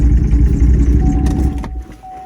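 A car with a faulty engine rumbles loudly and close for about a second and a half, then cuts off with a clunk, leaving a thin whine and quieter background.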